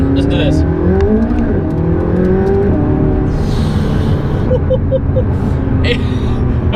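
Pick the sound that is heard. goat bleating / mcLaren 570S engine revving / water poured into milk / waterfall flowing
mcLaren 570S engine revving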